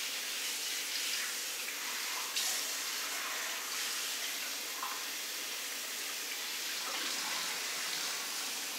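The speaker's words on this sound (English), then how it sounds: "I'm going to put it over the other sink to give it a good rinse." Tap water runs steadily into a kitchen sink as a brined Thanksgiving turkey is rinsed under it, a continuous soft hiss and splash that stays fairly faint throughout.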